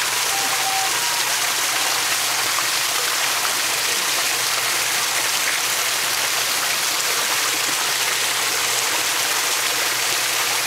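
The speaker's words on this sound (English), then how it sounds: "is spring water, sacred spring water, coming right out onto the street" Sacred spring water pours continuously out onto a street in Kumamoto, a steady close splashing rush with no pauses and no voices.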